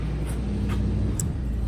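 A truck passes close by, a loud continuous low roar of engine and road noise that holds steady for a couple of seconds, with no talk over it.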